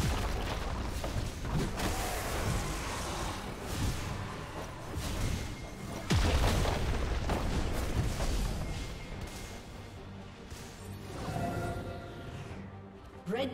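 A turret is destroyed in League of Legends, heard as a continuous barrage of heavy booms and crumbling blasts with dense in-game combat noise that surges around the middle and fades toward the end.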